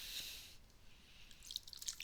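Fanta Haunted Apple soda is poured into a glass: a soft, faint hiss of liquid and fizz, with small bright drips and splashes toward the end. Quiet and close, with no talking.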